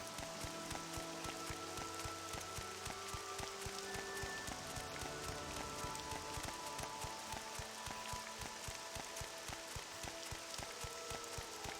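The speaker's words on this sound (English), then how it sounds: "Oh, it's raining." Steady rain pattering in the open-world video game Morrowind, a constant soft hiss of drops running through the whole stretch beneath layered game music.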